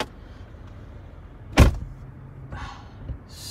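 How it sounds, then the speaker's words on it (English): One solid thud as the door of a Mercedes-Benz S500L shuts, followed by a few faint, soft interior sounds in an otherwise quiet cabin. "Now let me just close the door."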